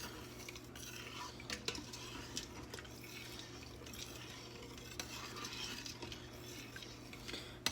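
A spoon scrapes and stirs beef bolognese made from jarred sauce and two cups of water inside an Instant Pot, with steady close clinking and scraping against the metal pot and a low hum behind it.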